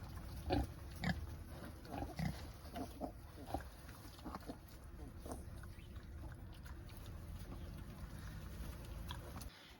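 A mother pig grunts softly to her piglets on an off-grid homestead, low short grunts coming in an irregular series, fairly faint and close over a steady background hiss.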